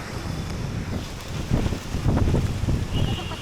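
Gusty wind buffeting the microphone in uneven, rumbling bursts, close and fairly loud, with no one speaking.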